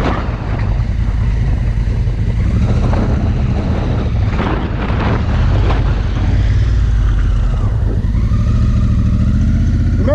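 A dirt bike charges up a steep dirt hill climb, the rider standing on the pegs under bright throttle. Its loud, continuous engine roar runs close to the microphone through the whole stretch, with heavy wind buffeting.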